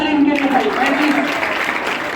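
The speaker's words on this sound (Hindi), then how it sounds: "जोरदार ताली इनके लिए भाई" Audience clapping for a quiz team at a school science and math club quiz competition, a steady wash of applause with a voice speaking over it throughout.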